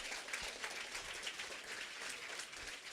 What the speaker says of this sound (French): Nous applaudissons bien fort les primés pour le CM1